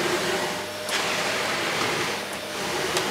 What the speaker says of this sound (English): this is the quietest vacuum cleaner I've got